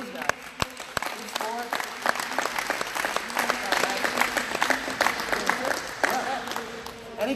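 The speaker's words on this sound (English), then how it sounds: "round of applause for these guys" Audience at a wheelchair tennis presentation claps for several seconds, a mid-sized crowd's applause with a few sharp individual claps standing out near the start and the sound holding steady before tapering slightly.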